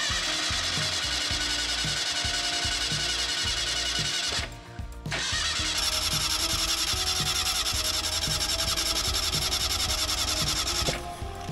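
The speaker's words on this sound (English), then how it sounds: "just gonna try to spray some starter fluid down there and see if it fires up" A 1970s Ford Pinto, abandoned for 30 years in a junkyard, cranks over on its starter after a dose of starter fluid, a steady rhythmic churning that runs loud and close without catching, with one brief pause partway through.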